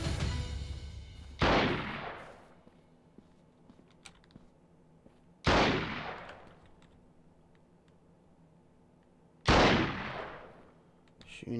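Three single sniper rifle shots in the video game Freeman: Guerrilla Warfare, evenly spaced about four seconds apart, each a sharp loud crack followed by a long rolling echo that fades before the next.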